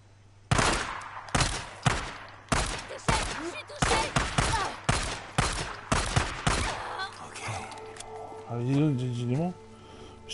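Repeated gunfire bursts in the video game Days Gone, loud sharp shots recurring about every half second to second, with a voice talking over them and a rising-falling tonal sound near the end.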